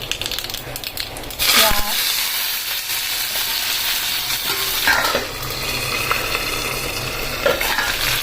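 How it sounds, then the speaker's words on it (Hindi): Hot oil crackles and sizzles steadily as mustard seeds are added, with a loud burst near the start, faint stirring and clinks scattered throughout. "तेल गरम हो गया है, तो इसमें हम सरसों के दाने डाल रहे हैं"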